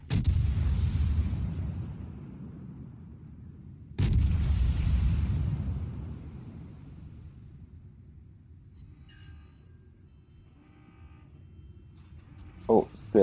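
Heavy naval gun salvos boom from a battleship in World of Warships, two big low blasts a few seconds apart, each decaying into a long rumble, with quieter game effects and sharp pops near the end.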